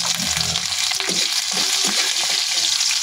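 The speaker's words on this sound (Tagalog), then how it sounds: "magsasangkutsa na tayo ng bawang" Garlic sautéing in a pan for Batangas menudo, a loud, continuous close-up sizzle with a few soft stirring scrapes, with no voices.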